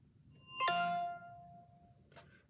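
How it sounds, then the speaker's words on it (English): An iPhone 14 power-off chime sounds once, a soft bright bell tone that rings clearly and then fades over about a second and a half, followed by a faint click, with no talking. "it makes a really nice chime that is under accessibility, audio and visual, and power off and power on sounds."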